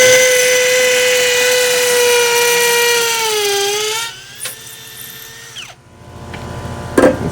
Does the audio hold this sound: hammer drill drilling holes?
yes